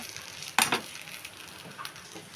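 Idli upma with green chilies stirred in a pan, a short burst of scraping and sizzling near the middle of the clip over a faint steady frying hiss, with a few lighter utensil taps afterward.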